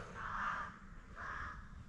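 Crows cawing in an autumn village beside a lakeside lodge on a rainy day, two drawn-out calls close together and moderately clear over a steady low rumble of rain and background noise.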